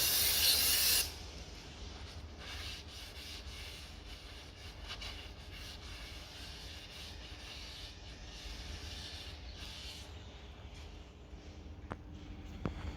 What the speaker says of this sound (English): again we can clean the front of it using the brake cleaner